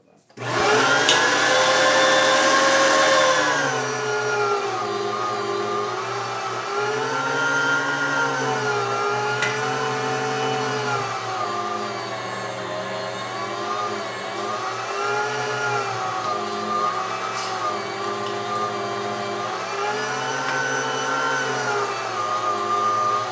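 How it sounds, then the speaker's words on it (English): An STX Turboforce 300 electric meat grinder runs loud and close, its motor whining steadily with rising and falling pitch as frozen meat is fed through. "it'll take the meat about as quick as you can put it into the meat grinder"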